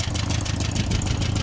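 A 1986 Subaru GL wagon's flat-four engine idles close by, a steady low rumble with an even, slightly lumpy pulse.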